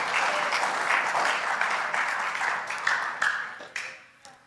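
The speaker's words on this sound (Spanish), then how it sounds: "¿Cuántos le dan un aplauso al Señor?" A church congregation bursts into dense, sustained applause that thins out over a few seconds into scattered claps, with no voices over it.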